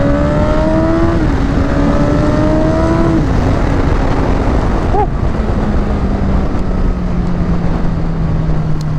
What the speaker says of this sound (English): the accelerations on this CBR is crazy